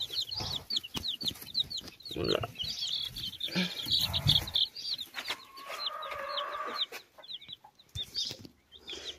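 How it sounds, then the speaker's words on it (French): Young grey chickens, a rooster and a hen, cluck and chirp in repeated quick high calls close by, with rustling and handling noises and a brief murmured word or two. "Ça, c'est le coq ou la poule."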